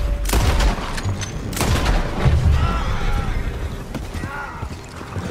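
Gunshots and heavy booms from a shootout with soldiers in Red Dead Redemption 2, scattered loud blasts with rumbling tails and some clattering, ending in a quieter stretch.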